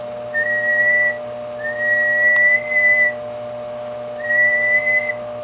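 Someone whistles into a microphone to test a Crusader 300 linear amplifier on the bench, three steady held tones with short gaps, loud and close over a faint electrical hum.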